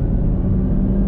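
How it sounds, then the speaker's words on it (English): Supercharged 650-horsepower 2021 Chevrolet Camaro ZL1 1LE on the move, a steady, dense drone of engine and supercharger noise holding at an even level throughout the short stretch with no talk. "hear a good bit of supercharger"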